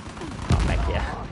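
Gunfire in an Uncharted 4 multiplayer match: a single loud shot cracks out midway through a brief burst of game noise, with a voice speaking faintly underneath.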